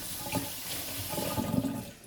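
Kitchen tap water running steadily while hands are washed during preparation of chicken inasal marinade, a continuous close splashing stream for about two seconds.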